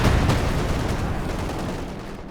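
A 6-pounder anti-tank gun fires in a Company of Heroes 2 battle, a heavy booming blast that stays loud and rumbling through the whole stretch, layered with dense battlefield gunfire.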